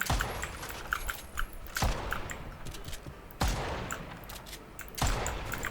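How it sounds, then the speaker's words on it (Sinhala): Gunfire in a video game played on a PS5 with keyboard and mouse: three sharp, loud shots spaced about a second and a half apart, with lighter clicks and rattles between them. "මේ වෙඩි තියද්දි ඒ වෙපන් එකක් හම්බුණා"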